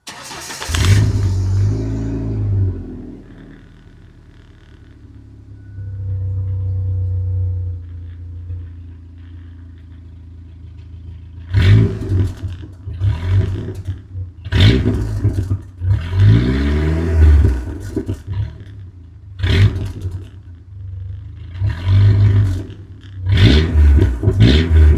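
A Ford Ranger's 4-cylinder engine, fitted with a new turn-down exhaust pipe, starts with a loud burst, then idles steadily before a series of sharp, repeated revs, each rising and falling, close and loud with no talking.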